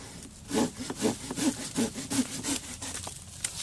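A folding hand saw cuts through a dead, cracked tree stump about two inches wide, giving rhythmic rasping wooden strokes, roughly eight pulls in steady succession, close and moderately loud with no talking.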